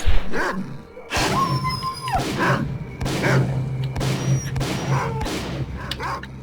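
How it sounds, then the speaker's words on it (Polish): Dogs barking in the video game S.T.A.L.K.E.R.: Call of Pripyat, with repeated loud yelps and barks spread through the scene over a steady low in-game drone. "Chędożone psy."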